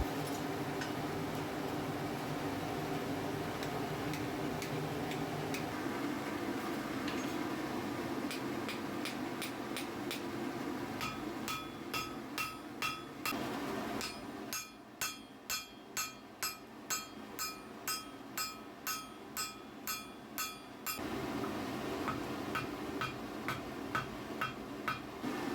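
Blacksmith forge welding a garden fork prong on an anvil: a steady run of ringing metallic hammer blows in quick, even rhythm, bright clinks over the constant roar of the forge fire.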